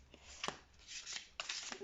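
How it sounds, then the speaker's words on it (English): Tarot cards are shuffled in a few quick riffling bursts, soft and close, with short gaps between the rustles. "I'm going to shuffle the cards"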